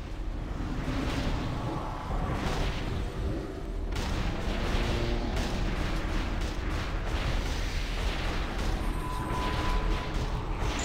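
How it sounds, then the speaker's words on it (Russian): Booming cannon-like blasts thud repeatedly over a rumbling battle din, several heavy impacts spaced across the clip with no voices. "Корабль под обстрелом!"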